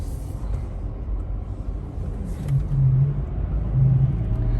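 A Volkswagen TDI diesel car with half a million miles on it drives along, heard from inside as a steady low engine and road rumble that swells slightly as it picks up speed.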